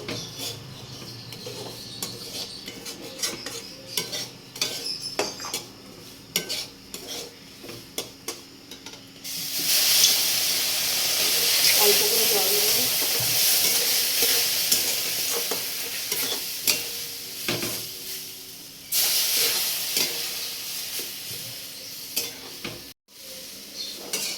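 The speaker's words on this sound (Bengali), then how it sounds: "দেখতেই পাচ্ছ সুজিটা ভাজা হয়ে গেছে এবার জল দিয়ে দেবো" Fried semolina in a pan, stirred with scrapes and clicks, then a loud hissing burst as water is poured in that sizzles strongly for several seconds before easing back to stirring.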